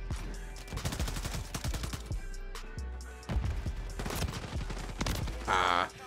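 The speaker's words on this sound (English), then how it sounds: "The benefit of the TAC Eradicator is it shoots extremely straight." Bursts of TAC Eradicator gunfire in Modern Warfare 3 crack out in rapid clustered volleys, loud and sharp, with brief pauses between strings of shots.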